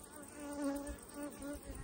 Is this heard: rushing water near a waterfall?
no